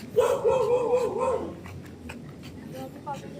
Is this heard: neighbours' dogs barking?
yes